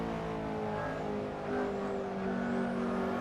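A McLaren P1 in Assetto Corsa on the Silverstone circuit drones steadily at high revs, its engine note climbing slightly as the car is pushed harder, with no talk over it.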